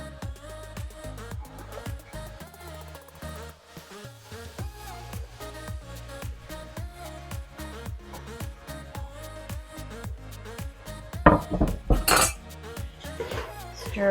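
A spoon scrapes and clinks against a pan while carrots, onions and celery are stirred, a run of rhythmic metallic taps and scrapes, close and fairly quiet, getting busier and louder toward the end.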